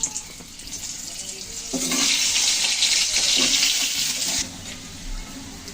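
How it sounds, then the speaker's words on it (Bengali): Potatoes go into hot oil in a pan, and a loud, bright sizzling hiss swells for a few seconds before settling back to a softer bubbling fry. "এখন এই তেলের ভিতরে আমি আলুগুলো ভেজে নেব।"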